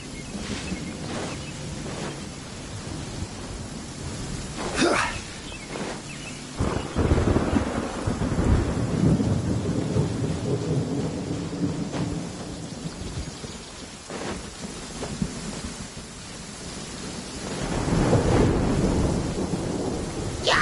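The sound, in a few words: thunderstorm with rain in Genshin Impact video game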